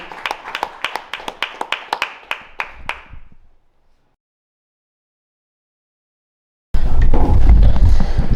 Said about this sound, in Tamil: எங்கே ஒருமுறை உங்கள் உற்சாகமான கரகோஷம் இவர்களுக்காக